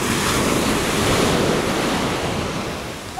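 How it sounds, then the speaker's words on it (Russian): Loud sea surf washes continuously onto a beach in Alanya, Turkey, a broad rushing roar mixed with wind buffeting the microphone. "О, вон большие идут волны"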